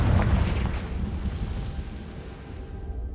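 A Confringo blast spell explodes in a Harry Potter video game, a deep rumbling boom that hits at once and fades over about three seconds, with no voices.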